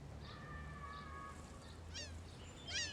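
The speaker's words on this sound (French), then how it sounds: "Je croise des canards," Ducks along a riverbank, a few faint honking quacks and calls over a low outdoor hum, distant and scattered across a few seconds.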